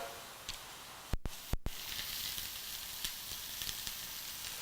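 Lobster stir fry sizzles steadily in a hot pan, a soft continuous frying hiss with two sharp clacks early on and faint pops scattered throughout, no talking.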